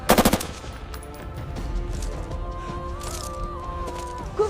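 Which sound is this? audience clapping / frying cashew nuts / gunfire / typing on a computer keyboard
gunfire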